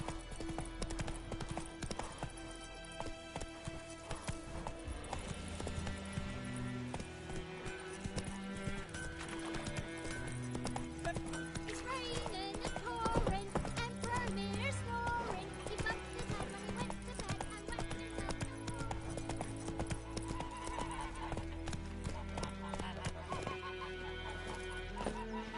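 Roach, Geralt's horse in The Witcher 3, trots with steady clip-clop hoofbeats under a full orchestral game score, with faint farmyard fowl clucking around.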